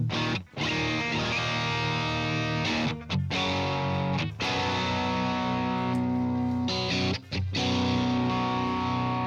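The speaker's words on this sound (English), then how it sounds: "So we're gonna bring the overdrive." An electric guitar played with overdrive through a Nembrini amp rings out in sustained, distorted chords with a few short gaps between strums, loud and alone.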